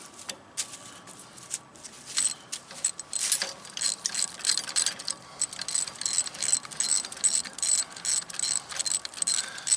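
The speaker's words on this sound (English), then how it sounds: "The battery's probably dead in it, so I've got hold of my ratchet first." Rapid clicking of a hand ratchet wrench tightens bolts while a Pat's Quick Hitch is installed, the close, dry ratcheting coming in quick irregular bursts that run nearly continuously, with no speech.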